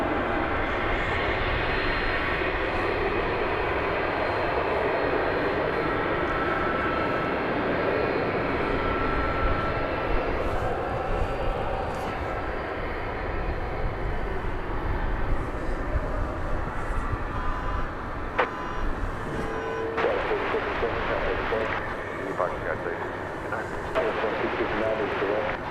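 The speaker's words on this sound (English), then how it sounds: "Here's the A300, which is now taxiing on its way to" An Airbus A300 taxiing at night at DFW Airport, its steady engine whine and roar continuous underneath, with people talking throughout.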